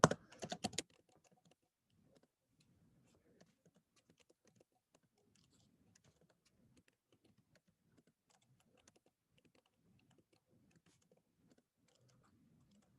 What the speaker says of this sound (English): It's really just me typing out the points that you see here.